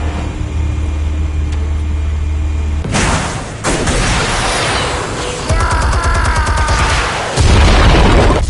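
A loud explosion in the Batman: Realm of Shadows video game: a sudden heavy blast followed by rumbling debris and crackling noise, sustained and dense over a low game hum.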